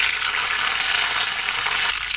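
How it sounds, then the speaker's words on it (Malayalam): Curry leaves sizzle in hot coconut oil after mustard seeds have popped, tempering for Kerala-style parippu dal curry; a steady, loud, close frying hiss holds evenly throughout with no talking. "ഇനി നമുക്ക് ഇതിലോട്ട് കറിവേപ്പില ഇട്ട് കൊടുക്കാം."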